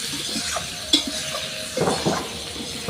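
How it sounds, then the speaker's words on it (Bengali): A spoon stirs potatoes, meat and ground cumin in a frying pan, giving soft scraping scrapes and a couple of light metallic clinks over a steady sizzle, close by and without talk. "এবার এই সবগুলোকে ভালো করে মিশিয়ে নেব"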